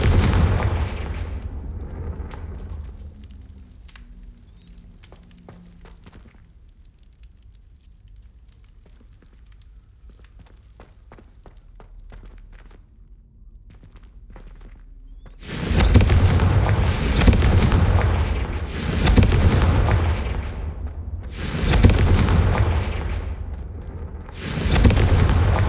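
Confringo fire spells in the video game Hogwarts Legacy go off as a run of loud, booming explosions, several heavy blasts in close succession after a quieter stretch.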